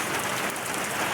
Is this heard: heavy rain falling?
yes